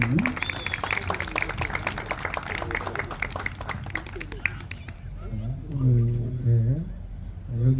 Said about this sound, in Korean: 나오실 때 환영의 박수를 주바랍니다.